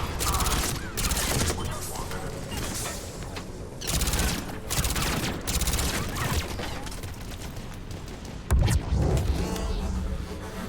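Gunfire in a shooter video game, dense bursts of rapid automatic fire and impacts stacked in waves, loud and continuous, with a brief heavier blast near the end and voices mixed in.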